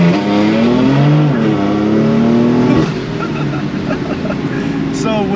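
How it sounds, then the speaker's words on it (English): BMW M4 (2018 F82) doing a rolling anti-lag on a downshift into second above 3K RPM, a loud close engine roar with rising revs that drops off into a rougher burbling idle, with people talking over it. "That was a rolling anti-lag."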